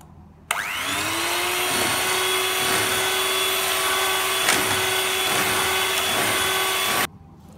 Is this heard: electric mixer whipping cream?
yes